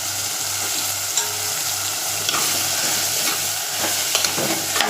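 Eggplant pieces frying in hot oil for a dried fish thokku gravy, a steady close sizzle with occasional stirring scrapes and small spatters throughout, no voices.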